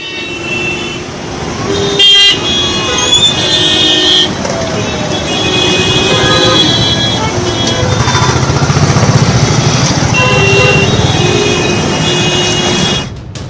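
A newly bought luxury car pulls away carrying a family, its engine running steadily up close with short horn toots and crowd noise around it.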